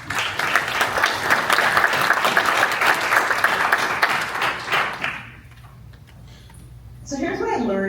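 A live audience gives a round of applause for the panelists at a leadership talk, dense, sustained clapping for about five seconds that fades out, after which a voice begins speaking.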